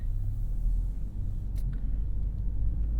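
A 2021 Hyundai Sonata N-Line with a 2.5-liter turbo pulls away on a Kentucky road, heard from inside as a low, steady engine rumble, quiet and even, with a faint click partway through.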